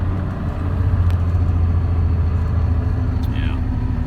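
A Cummins diesel truck engine misfiring and short of power while climbing a steep hill: a steady, loud, low drone from inside the cab.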